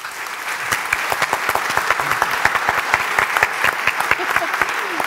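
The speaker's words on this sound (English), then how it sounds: "Let's clap." A lecture audience bursts into dense, steady clapping that holds at an even, fairly loud level throughout, with no voices rising above it.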